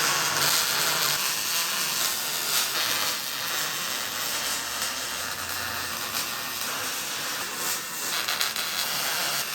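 A wire-feed welder finishes the welds on a metal obstacle, a steady hissing, crackling buzz in short and longer runs, fairly close, with no talking.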